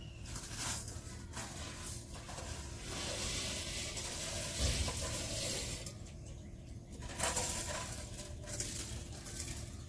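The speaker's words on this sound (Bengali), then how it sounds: "তো এবার ডালটাও দেবো, যে ডালটাতে মুগ ডাল নিয়েছিলাম" Moong dal tipped into a khichuri pot already holding rice, frying with a steady, close hiss and sizzle that swells and eases for about ten seconds, with no talk.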